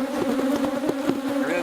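Defensive honey bees pour out of an open hive in a dense, continuous buzz, a steady close drone that holds without pause for the whole stretch.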